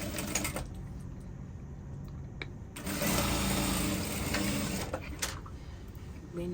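A sewing machine stitching lace dress fabric to join the shoulders at a half-inch seam, running in steady bursts with brief pauses and a louder continuous stretch in the middle, close and alone.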